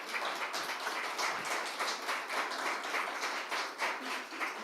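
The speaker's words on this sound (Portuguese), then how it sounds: "Você pode aplaudir ao Senhor?" A church congregation claps steadily for several seconds, dense overlapping applause filling the space at moderate distance with no voices on top.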